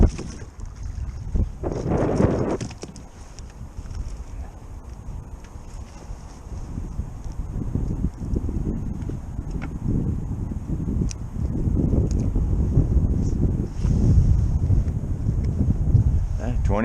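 Strong wind of about 20 mph sweeps across a puddled, grassy trout-fishing spot, with rumbling gusts buffeting the microphone in a continuous low roar that swells louder toward the end.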